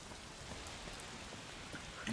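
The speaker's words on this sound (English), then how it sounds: "I mean, it is raining." Soft, steady rainfall in the video game A Plague Tale Requiem, a faint even hiss of drops that continues throughout with no voices.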